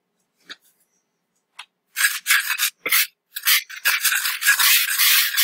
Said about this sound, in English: Now we're going to whisk these together.